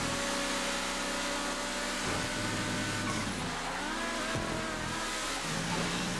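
A car engine revs in GTA 5 on a race track, rising and falling whine as the motor climbs through gears with sweeping pitch changes, fairly quiet and continuous.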